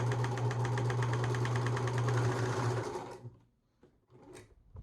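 A Husqvarna Viking 190 sewing machine runs a wide zigzag stitch, giving a fast, steady mechanical whirring with rapid rhythmic needle ticks for about three seconds before stopping, followed by a few faint handling clicks.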